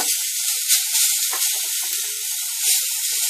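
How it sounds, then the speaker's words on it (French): Beetroot frying in a pan, reused after toasting cashews, for an Indian beetroot dessert: a steady bright hiss of sizzling oil, close and continuous, with faint brief clicks and no talking. "je vais rajouter dans cette même poêle donc notre betterave"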